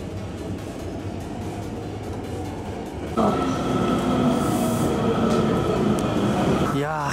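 A train ride on a Japanese line near Takatsuki, Osaka, with steady rolling rumble and track noise, a tonal motor whine rising partway through, and a brief squeal near the end.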